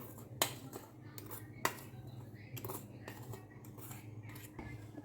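Sweet filling for Konkani Christmas nevryo gets mixed in a bowl, with a spoon or utensil clinking and scraping against the dish in irregular taps, close and fairly quiet.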